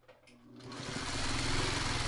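Sewing machine stitching quilt blocks for a traditional four-patch, its motor spinning up from quiet into a fast, even whirr of needle strokes that builds and holds close by.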